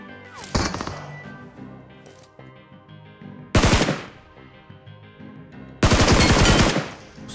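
Pistol gunfire in a battle-royale shooter game comes as three sharp, loud bursts of rapid shots. Quieter gaps with faint game sounds separate the bursts.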